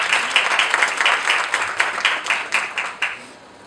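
A small event audience applauds a panel guest being invited up, close, distinct claps forming a brisk burst that thins out toward the end.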